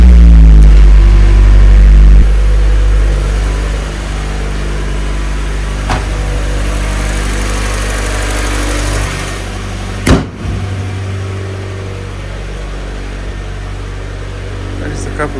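A Mazda Miata engine idles with a steady low hum and rumble while worn engine mounts set the cabin shaking, heard from inside the car; a single sharp knock lands partway through.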